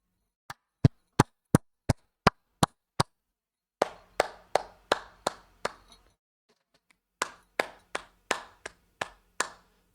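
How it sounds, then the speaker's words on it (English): Sharp hand claps in different spots, a steady run of about eight crisp dry claps, then two more groups of claps with a roomier, slightly reverberant tail, heard through a microphone with noise suppression. "So I'm just clapping in different locations"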